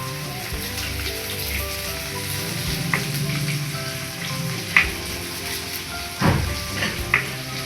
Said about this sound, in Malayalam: 2 വറ്റൽമുളക്, ഒരു 3 ചെറിയ ഉള്ളി ചെറുതായിട്ട് വട്ടത്തിൽ അരിഞ്ഞതും കൂടെ ചേർത്ത് നമുക്ക് നന്നായിട്ടൊന്ന് വഴറ്റി കൊടുക്കാം.